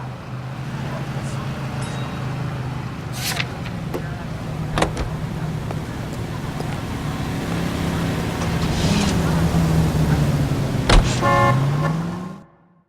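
Car in the LA Noire video game driving at steady speed, a low continuous engine hum with road noise, scattered clicks and brief horn-like tones, the drone rising slightly before cutting out abruptly near the end.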